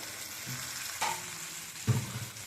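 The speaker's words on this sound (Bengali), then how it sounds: "তো এই যে তার জন্য আলুটা ভাজতে বসিয়ে দিয়েছে।" Potatoes fry in oil in a pan for a katla fish curry, a soft steady sizzle with a couple of brief clinks or stirs, heard alone without speech.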